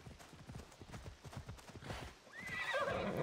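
Video-game horse in Assassin's Creed Odyssey, with rhythmic clip-clopping hooves at a steady pace, then a clear neigh near the end.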